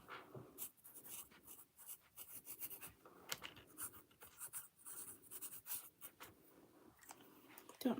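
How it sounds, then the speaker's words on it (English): A pen scratching across paper while labels are handwritten, quiet and close, with irregular strokes and short pauses, and faint room noise behind. "I want to label these before I cut them out."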